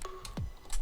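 A few quick keyboard clicks as a command is typed on a computer while setting up a Wine prefix on Linux, close and fairly faint, with brief taps spread across under a second.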